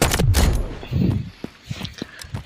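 Gunfire in a shooting video game, heard as a loud close burst of shots followed by several sharper single cracks at irregular intervals, with no speech over them.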